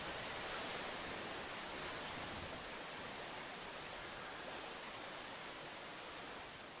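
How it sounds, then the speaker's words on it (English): A waterfall in the video game Minecraft gives off a steady, soft rushing hiss that stays even throughout, with no voices. "Ah, interesting waterfall."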